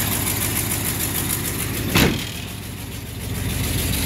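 A 1974 Ford F100 pickup with a 360 engine and automatic transmission runs steadily as it pulls away, a loud, even engine drone with a brief thump partway through and no voices.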